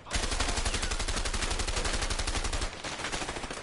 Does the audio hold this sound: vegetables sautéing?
no